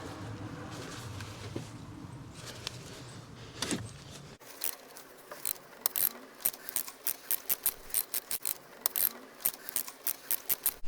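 A 1/2 inch ratchet turning a spark plug socket on a BMW N52 engine, a close run of quick, repeated metallic clicks following some duller mechanical handling.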